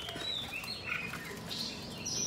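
A caged red-whiskered bulbul gives several quick, thin chirps and whistled notes, close by over a steady noisy background.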